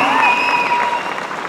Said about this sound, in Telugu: క్లాప్స్ దీనికి